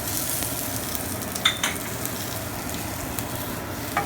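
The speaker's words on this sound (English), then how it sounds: "Quickly dumping your onions." Onions dropped into a hot pan coated with browned chicken bits sizzle loudly and continuously up close, broken by a few sharp spatters and utensil taps, with no talking.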